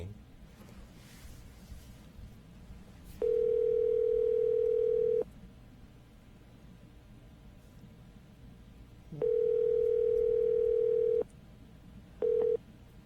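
A telephone ringback tone purrs in long two-second rings separated by quiet gaps; two full rings play, then a third begins just before the end.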